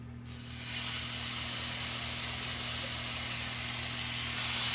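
Steaks hitting a hot cooking surface, a loud steady broadband sizzle that flares up at once and holds continuously, close and alone with a faint background hum.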